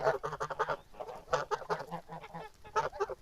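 A flock of moulted geese, eight geese and four ganders, honks repeatedly in loud, rapid bursts, close by, with short pauses between the calls.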